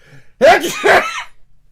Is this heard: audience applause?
no